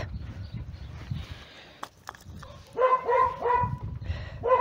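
A dog barks a handful of times in a short run, somewhat distant, after a quiet stretch of low outdoor rumble at a village garden plot.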